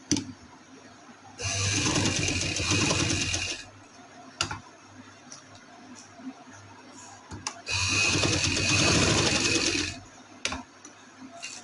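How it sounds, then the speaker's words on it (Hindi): A sewing machine stitches a V-neck neckline in two loud bursts of fast whirring, each lasting about two seconds, separated by quiet handling clicks. "अब हम इस पे सिलाई लगाएंगे।"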